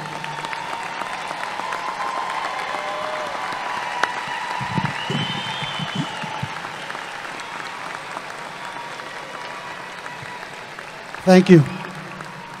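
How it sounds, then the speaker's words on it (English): Graduating seniors at a 2022 high school graduation applaud their families, a steady broad wash of clapping from a large crowd throughout, with brief speech and a short loud burst near the end. "Seniors, join me in applauding your families for all of the love and support they have given you."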